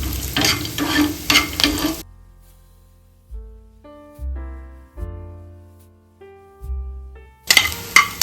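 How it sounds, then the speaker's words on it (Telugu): Cashew nuts frying in a pan for curry leaves lemon rice: a loud close sizzle with stirring clatter at the start, then music alone for several seconds before the frying noise returns at the end. "టూ టేబుల్ స్పూన్ జీడిపప్పు తీసుకోండి ఇవి కూడా వేగించి పక్కన పెట్టేసుకోండి"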